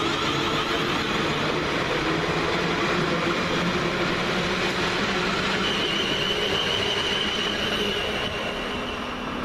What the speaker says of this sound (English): This is 450002, and it's leaving with the 1033 South West train service from London Waterloo to Portsmouth and Southsea.